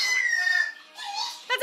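A Goffin's cockatoo gives a thin, high peeping call like a chick, one long drawn-out note followed by a shorter squeaky chirp, close and fairly quiet.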